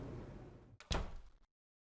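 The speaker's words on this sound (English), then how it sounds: "I just heard a door open and close" A door in the Silent Hill 4: The Room video game opens and then shuts with a single heavy thunk, preceded by a low rumbling ambience. Silence follows.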